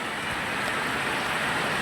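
Heavy rain pours in Moti Gop, Gujarat as a dense, steady hiss that stays even throughout, with no voices.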